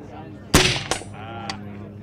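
An MD-11 AR-10 rifle fired on an outdoor long-range range gives one sharp, loud gunshot crack with a short echoing tail, then a fainter second report, while people murmur in the background.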